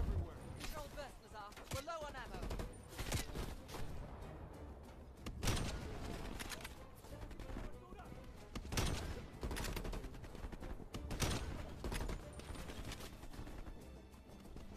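Shots ring out in a Call of Duty Black Ops Cold War campaign battle: sharp, repeated gunfire bursts and loud cracks fill the whole stretch, with voices talking over the combat.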